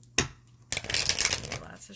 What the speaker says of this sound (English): Lots of shuffling right now.